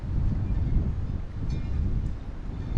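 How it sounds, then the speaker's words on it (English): Strong wind buffets the microphone during kayak fishing from an Old Town kayak on open water, a continuous loud low rumble with gusting swells and no clear speech throughout. "Oh man, it's windy."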